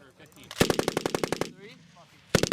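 An M240 machine gun on a firing range fires a rapid burst of about ten loud, evenly spaced shots, then a short second burst after a pause, with faint voices in between.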